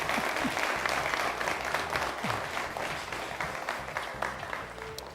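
A studio audience at TVC Lagos, Nigeria applauds a guest with steady, dense clapping that holds at full strength for about five seconds.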